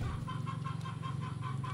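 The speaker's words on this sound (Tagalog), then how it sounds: "grabing manok kay ingay" Chickens cluck noisily nearby, a rapid repeated rhythm of short clucks over a low steady hum.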